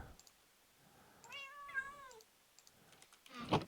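A cat lets out one clear, drawn-out meow close by. Faint keyboard clicks tap around it, and a sharp rustling thump follows near the end.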